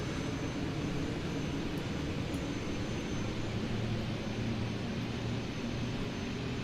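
Airbus A380 jet engines in a flight simulator game, a steady, even roar of engine noise droning throughout at moderate level, with no talking.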